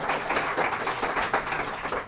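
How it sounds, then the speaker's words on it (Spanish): Church congregation clapping in praise during a Spanish-language sermon, a steady dense patter of many hands lasting about two seconds at moderate loudness. "Dale un aplauso al Señor."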